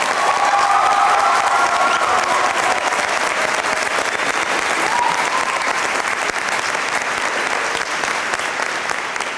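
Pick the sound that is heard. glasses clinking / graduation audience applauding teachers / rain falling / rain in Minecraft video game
graduation audience applauding teachers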